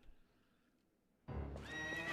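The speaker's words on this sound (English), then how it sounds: "And then, what is this, horse fight?" Horse in the Twilight Princess video game gives a loud, sudden whinny that bursts in after a quiet stretch of low game ambience, with bright rising harmonics and a hint of hoofbeats underneath.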